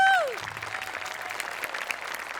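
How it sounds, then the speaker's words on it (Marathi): On a comedy show stage, a brief falling tone gives way to an audience clapping in a steady, moderate wave that carries on to the end. "सगळ्यात आधी गोस्वामी आणि आमिर हडकर आणि टीमसाठी जोरदार टाळ्या"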